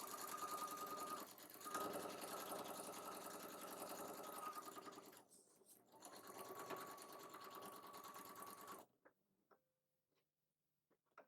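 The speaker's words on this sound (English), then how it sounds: "And we do sew all the way off to the matching corners." A sewing machine runs steadily while stitching a quilt border block, its fast even whir running for about nine seconds with a brief pause midway, then stopping into near silence.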